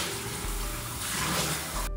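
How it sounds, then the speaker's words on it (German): Lukewarm water runs steadily from a tap at a sink as someone washes their face. There is a continuous close splashing hiss with small shifts in the flow, ending abruptly. "Und dann wasche ich erstmal mein Gesicht mit lauwarmem Wasser."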